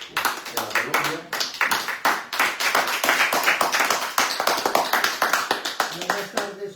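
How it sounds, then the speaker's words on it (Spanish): An audience at a talk claps loudly and steadily, many hands slapping in a brisk, continuous burst, with some voices underneath that fade as the clapping ends. "Un fuerte aplauso para Eder, de la Colombia."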